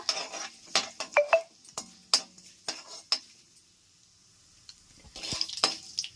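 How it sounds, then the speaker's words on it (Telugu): Mustard and fenugreek seeds splutter in hot oil in a pan, scattered sharp crackles and pops arriving in irregular clusters, then a quiet stretch before another burst of spitting. "చూసారా, ఆవాలు మెంతులు చిట్పట్లాడుతున్నాయి కదా."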